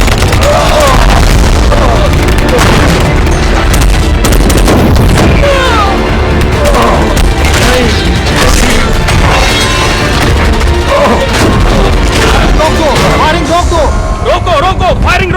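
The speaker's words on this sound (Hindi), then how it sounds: "रोको, फायरिंग रोको।" Gunfire rings out in a loud movie battle scene from Transformers: Age of Extinction, with booms and sharp bursts running under a dense mix of music, effects and shouting voices.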